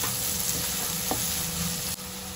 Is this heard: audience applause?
no